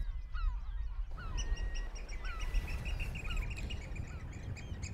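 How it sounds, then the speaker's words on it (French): A Eurasian oystercatcher on the Normandy island of Tatihou gives its alarm call near a herring gull colony, sharp repeated piping notes in quick bursts over a breezy outdoor background with other birds calling. "Donc là, on entend le chant caractéristique de l'huîtrier pie en alerte."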